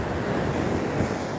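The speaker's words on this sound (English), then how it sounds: "So then there's the blue ocean." Ocean surf at Laguna Beach, a steady broadband wash of waves and wind rushing continuously with no pauses, loud and close with wind buffeting the microphone.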